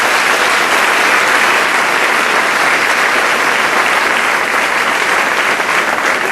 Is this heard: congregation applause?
yes